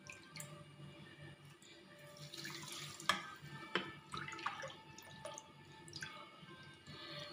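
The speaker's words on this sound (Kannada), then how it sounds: "ನಾವು ಯಾವ ಬಟ್ಲಲ್ಲಿ ಬೆಲ್ಲ ತೊಗೊಂಡ್ವೋ ಅದೇ ಬಟ್ಲಲ್ಲಿ ನೀರನ್ನ ಹಾಕೋಣ" Water is poured into a pot holding organic jaggery, giving quiet trickles and small drips and splashes that come close together, heard faintly in a quiet room.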